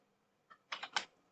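A few crisp keystrokes on a computer keyboard, starting with a single tap and then a quick irregular burst of three or four strikes before a final sharp press, close and clear in an otherwise quiet room with nobody speaking.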